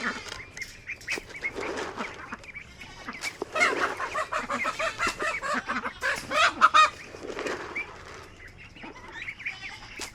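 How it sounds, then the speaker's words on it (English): Ducks and other farm fowl honk and squawk in a noisy, overlapping chorus with wings flapping, nearby and continuous, swelling louder in the middle. "Let's go find the ducks."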